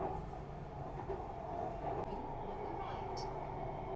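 A Chennai metro train arrives at the platform with a steady loud rumble and rolling hum throughout, a faint brief squeal near the end, while speech runs underneath.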